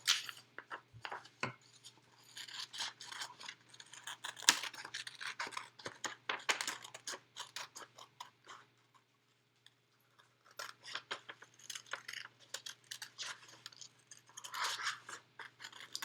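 Scissors snipping through craft paper up close, a run of short crisp cuts and rustles in irregular bursts, pausing briefly midway before resuming.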